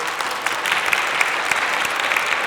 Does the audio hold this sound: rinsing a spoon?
no